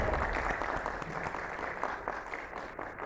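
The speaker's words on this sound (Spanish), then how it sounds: "Fuerte el aplauso para la licenciada Gabriela Bautista, directora de CADIN." Applause from the audience at a disability institutional forum in Tlaxcala for a center director, a dense crowd of clapping hands, fairly loud and continuous, tapering near the end with no one speaking.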